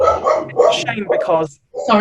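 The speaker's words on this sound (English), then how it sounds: "that's my dog." A pet dog barks and yips close by in a home recording setting, short sharp bursts mixed in with two people talking over it.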